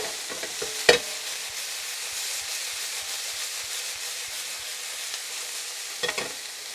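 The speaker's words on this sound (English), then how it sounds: "first thing we want in is our minced garlic. That's been cooking quite nicely for a couple of minutes as it stands" Minced garlic sizzles in a hot pan for a Filipino dish, a steady broadband hiss running throughout with a few sharp spits and utensil clicks near the start and end.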